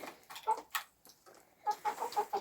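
Poultry clucking in a backyard flock of birds recovering from illness, several short bursts of clucks close by with a brief pause in the middle, no talk.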